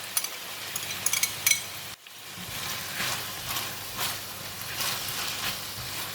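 Chili and chopped onions fry in a wok for mee goreng, a soft steady sizzle with a few scraping stirs early on, then a brief drop before the frying hiss resumes at moderate level.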